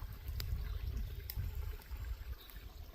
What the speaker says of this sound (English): I think I can hear running water.